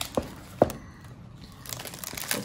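A small bag of sweets crinkles while holiday gifts are unpacked: a few quick, crisp rustles close by, then softer handling noise.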